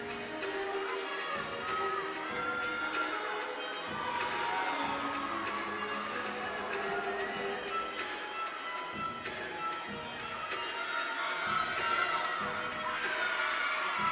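Gymnastics teammates cheering on an NC State Wolfpack gymnast during a college meet against North Carolina, a busy arena crowd of shouts and cheers with a commentator talking over it.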